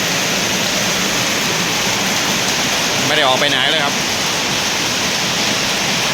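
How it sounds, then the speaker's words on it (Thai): Heavy rain pours steadily at a home, a dense, even hiss that fills the whole stretch, with someone speaking briefly midway over it. "ฝนตกแรงมาก"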